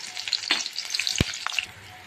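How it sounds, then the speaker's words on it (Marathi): Cumin seeds tempering in hot oil, a close crackling sizzle with sharp pops and one dull knock against the pan, heard alone. "आता आपण जिऱ्याची फोडणी घालणार आहोत."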